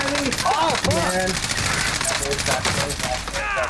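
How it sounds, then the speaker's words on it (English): Video game gunfire crackles in rapid, close bursts of automatic shots, mixed with excited voices talking over the action. "Somebody's shooting at me."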